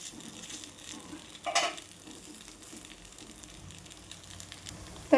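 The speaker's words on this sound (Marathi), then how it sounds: "अशा पद्धतीने दोन्ही साईडने मी भाजून घेतला आहे." Rava and poha appe batter fries in a small appe pan with a steady, low sizzle, punctuated by a brief louder crackle and a metallic scrape near the end.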